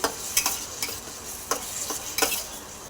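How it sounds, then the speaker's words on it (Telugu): Crushed garlic stirred into a frying pan with tender tamarind leaves for a dry fish curry: a constant close sizzle broken by sharp spoon scrapes about every half second, with no voices. "తర్వాత దంచిన తెల్లగడ్డ దాంట్లో వేసుకోవాలి, బాగా కలుపుకోవాలి"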